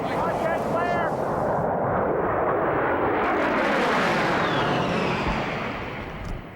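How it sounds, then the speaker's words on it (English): Military jets roar loudly overhead in a sustained, close, rumbling blast that swells and then slowly fades away. "The jets are so loud, the crew wears earplugs."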